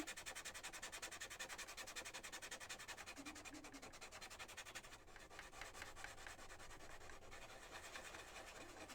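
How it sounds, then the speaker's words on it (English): Sandpaper rubs lightly and steadily over the face of a wooden bunny toy in quick, even back-and-forth strokes, close and soft, with no voices. "I'm going to sand the face down just a little bit"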